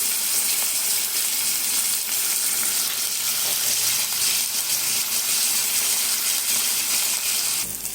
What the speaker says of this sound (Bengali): প্রথমে করলাটাকে ভেজে তুলে নেব।